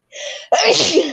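A single loud sneeze, a short sharp inhale followed by an explosive burst, close by and alone.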